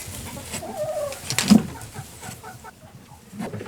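Backyard chickens cluck softly with a few brief, bird-like calls, fairly close and moderately quiet against low outdoor background noise, with no talking.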